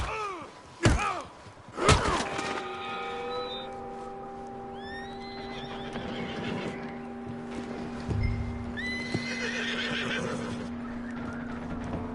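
A couple of heavy thuds open, followed by a horse's drawn-out whinny and snorting over a sustained tonal hum in Red Dead Redemption 2 on PS5; hooves shuffle faintly.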